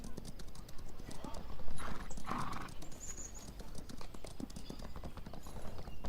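Horse hooves clip-clop steadily through a video game scene, with a brief whinny partway through, all heard beneath ongoing talk and game ambience.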